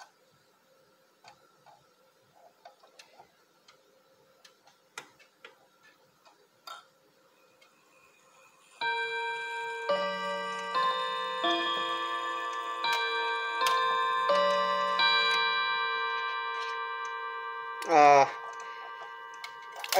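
A Seth Thomas mantle clock ticks faintly and sparsely indoors, then breaks into a long run of ringing chimes that layer and sustain for about ten seconds, ending in a louder final clang.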